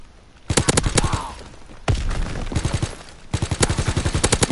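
A Type 100 submachine gun fires in a World War II shooter game in rapid, loud bursts of sharp shots, with short pauses between volleys and a longer sustained string at the end.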